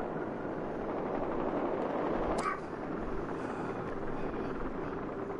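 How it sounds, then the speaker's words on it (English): A video game helicopter gives off a steady, loud rotor drone that holds throughout, with one brief sharp click in the middle and no talking. "it's the wrong helicopter again"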